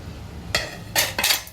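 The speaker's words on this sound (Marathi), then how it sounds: "तवा ह्या साईडला ठेवू." A metal tawa griddle is set down among plates and cups in a home kitchen during tea making, giving three short clanks and clatters close by, with quiet room noise between them.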